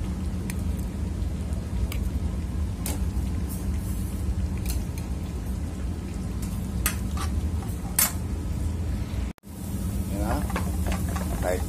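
Garlic sautéing alone in a pan before bacon and beef soup, a continuous loud sizzle with scattered scrapes and clicks of a utensil, briefly cut out near the end.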